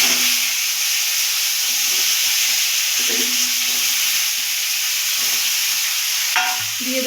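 Potatoes and flat beans fry in a pan with black cumin, giving a steady close sizzle and hiss. Spoon or spatula stirs scrape through it again and again, and there is no talk.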